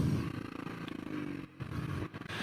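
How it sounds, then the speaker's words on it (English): A BMW R nineT motorcycle engine chugs with a deep, low rhythmic pulse under wind noise, briefly dropping away twice. "The grunt of the engine is very nice to listen to. The engine is chugging away."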